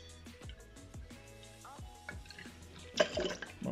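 Triple sec orange liqueur is poured into a cocktail, a faint, close trickle with a series of small drips and splashes and a brief louder splash near the end.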